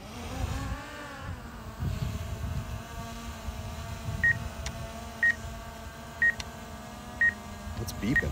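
A drone's remote control at a Chicago lakeside park gives four short, evenly spaced beeps about a second apart over a low motor hum and faint voices.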